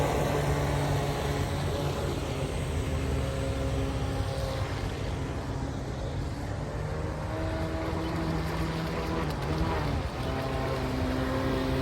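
A restored 1990 Kyosho Hurricane RC boat runs continuously on water, a steady buzzing motor whine with shifting pitch heard at a moderate distance and no speech.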